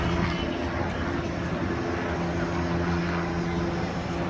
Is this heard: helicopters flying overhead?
yes